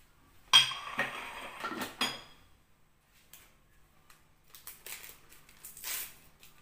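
Butter, sugar and vanilla are mixed in a bowl, with sharp clinks and scrapes of a utensil against the bowl in short bursts separated by near silence.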